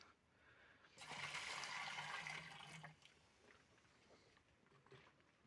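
A foliar fertilizer solution for cabbage pours steadily for about two seconds with a rushing, splashing sound, then tapers to a faint trickle and quiet background.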